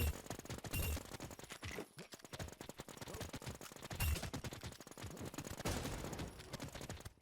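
Rapid gunfire fills an online multiplayer shooting game, overlapping bursts rattling almost without pause, loud and close, with several short lulls between volleys.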